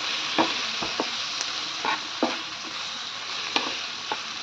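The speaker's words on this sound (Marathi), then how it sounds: "पाच मिनटं झाले की आपण याच्यावरचं झाकण काढून घेऊया हे हलकसं असं परतून घ्यायचं" Butter paneer masala lightly sautéing in a pan with the lid off, a soft continuous sizzle with a few sharp spoon scrapes and taps spaced through it, close and fairly quiet.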